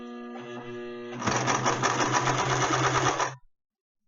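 A sewing machine stitches a shirt in one short burst of fast whirring and clattering of about two seconds, close and loud. A steady hum comes before it, and the stitching stops abruptly into silence.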